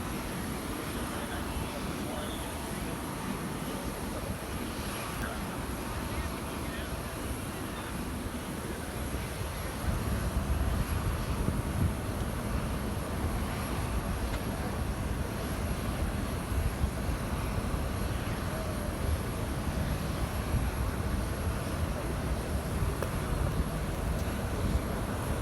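Air Force One, a smaller plane, at Newark Liberty International Airport gives a continuous jet engine roar that grows louder partway through, with wind-like rushing and no clear talk over it.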